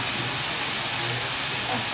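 Ginger paste sizzles in a pan of rui fish with onion, garlic and spices, a steady, broad hiss that stays even throughout with faint low rumbling beneath.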